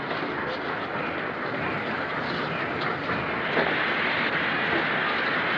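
A 1940s steam-era passenger train stands at a British station platform, a steady broad rumble of rail noise filling the scene with faint clanks, while a porter's voice calls out over it.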